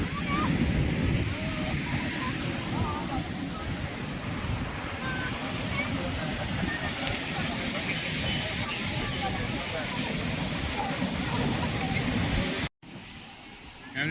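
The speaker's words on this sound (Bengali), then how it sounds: "আজকে শেষের দিনের হাওয়া উপভোগ করছি, সমুদ্রের হাওয়া" Sea wind and surf at a beach, a steady close rush of wind buffeting the microphone over a broad wash of waves, with a brief cut near the end.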